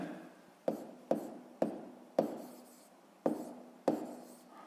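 Chalk or marker writing on a board during a sixth-grade math lesson, six distinct taps, each trailing off into a short scratching stroke, close and moderately quiet with no talk.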